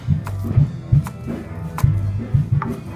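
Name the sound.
chopping green onions with a knife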